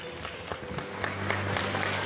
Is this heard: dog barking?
no